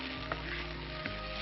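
Oggarane tempering sizzles steadily in a pan while patrode is made in a home kitchen, a continuous close hiss with a couple of brief clinks or stirs and no talk.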